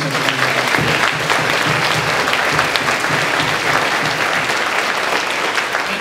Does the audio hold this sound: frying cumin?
no